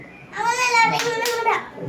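A small girl claps her hands a few times while chattering in a high childish voice, the claps close and mixed in with her speech.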